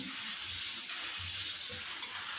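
Puffed rice is washed by hand in water for a Telugu uggani dish, giving soft swishing and sloshing with a few low stirring bumps, close and fairly quiet.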